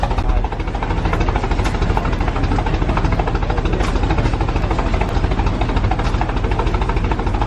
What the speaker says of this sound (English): there's like a tractor area and they're running this one over here the whole time